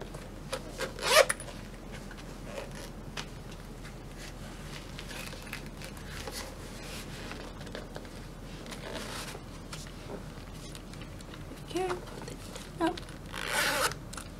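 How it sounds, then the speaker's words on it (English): Zipper pulled on a pair of Pleaser Sky 1020 shiny black patent ankle boots with 7-inch high heels, a few quick rasping zips, a louder one near the start and a cluster toward the end, close and otherwise quiet. "you can just tie these up and use the zip to put them on and off"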